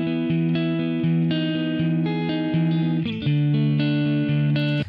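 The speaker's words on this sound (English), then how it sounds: "first of all, to that guitar amp as it was without the cabinet simulation switched on." Electric guitar running through a free amp simulator plugin with the cabinet simulation switched off, giving a raw, fizzy distorted tone as a chugging riff of repeated notes and a few sustained chords plays loud and steady without any voice.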